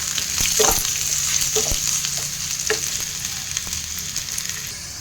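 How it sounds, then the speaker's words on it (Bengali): Cut potatoes frying in a pan, a loud continuous sizzle close up with a few soft scraping stirs and clacks of a utensil against the pan, no voices. "কাটা আলু দিয়ে দিচ্ছি। আলুটাও ভাজবো ভালো করে।"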